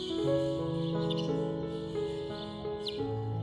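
Chidiya (sparrows) chirp in natural surroundings, a dense, close chorus of bright repeated tweets and trills overlapping throughout.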